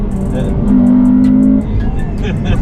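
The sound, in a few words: Honda Civic Type R FN2 with HKS intake and Tegiwa exhaust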